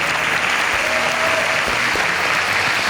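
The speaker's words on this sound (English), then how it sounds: "Another round of applause for them." A large crowd gives loud, sustained applause, dense and continuous from start to finish.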